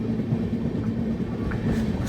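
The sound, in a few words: train entering Yeshwantpur railway station, Bengaluru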